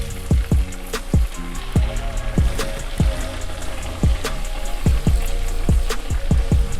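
Minced garlic sizzling in a pan of melted butter, a steady frying crackle with a run of sharp, evenly spaced ticks and pops close by.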